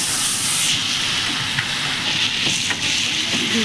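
Potatoes frying in hot oil for a fish head curry give a steady, close broadband sizzle and hiss with a few faint clinks, with no talking.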